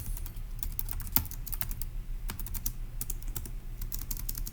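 Rapid typing on a computer keyboard while solving a Turing Machine logic puzzle, a dense run of crisp key clicks with irregular rhythm and one louder keystroke, close and clear with no talking.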